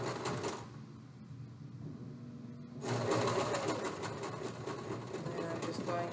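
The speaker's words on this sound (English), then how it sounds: "I'm just going to continue to sew." A sewing machine stitches fabric during a beginner sewing lesson: a brief burst of whirring, a short lull, then a louder, steady mechanical run that continues to the end.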